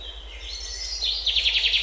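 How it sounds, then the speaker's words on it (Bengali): Birds call among mangrove backwaters on Munroe Island, with a thin high whistle followed by a quick series of bright, repeated chirps, fairly faint over a low background hum. "আপনারা শুনতে পাচ্ছেন অজস্র পাখির ডাক প্রতি মুহূর্তে।"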